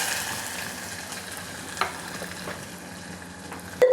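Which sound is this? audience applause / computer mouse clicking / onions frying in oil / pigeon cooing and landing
onions frying in oil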